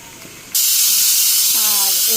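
Ghee hits a hot pan and instantly bursts into a loud, steady hissing sizzle that continues unbroken, while a voice briefly speaks over it.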